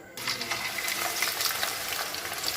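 Raw plantain slices dropped into hot oil, setting off a sudden, steady, dense crackling sizzle that holds evenly and close.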